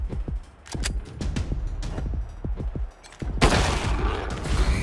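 Pistol gunfire in the post-apocalyptic RPG Wasteland 3, a rapid string of loud sharp shots in quick succession, followed by a broad burst of noisy impact or explosion, with no talk.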